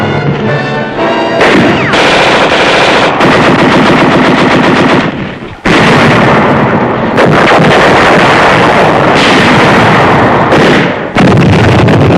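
Loud, sustained World War II machine gun fire in Pacific combat footage at Los Negros, dense rapid bursts that run almost unbroken with only brief gaps, harsh and close, with no talk over it.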